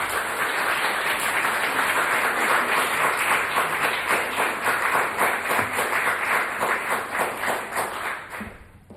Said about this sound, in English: So please, a warm applause to Erin Cech.